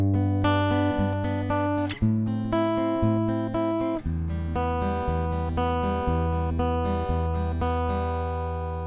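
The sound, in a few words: guitar playing chord progression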